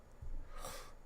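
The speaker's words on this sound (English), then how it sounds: "Sorry, I'm sniffling a lot here." A person with congested sinuses gives a short, wet nasal sniff followed by a breathy snuffle, very close and quiet, lasting about a second.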